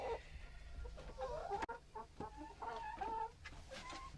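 Chickens cluck softly in a coop, a loose run of low, murmuring calls repeating at a quiet level with a brief knock partway through.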